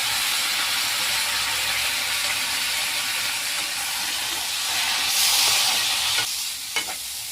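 Gram flour palya frying and being stirred in a pan, a steady close sizzle and hiss with occasional scraping stirs toward the end, no voice over it.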